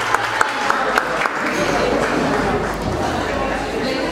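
Audience at a panel session claps in a dense, steady wash of applause, close and continuous throughout with scattered louder hand claps.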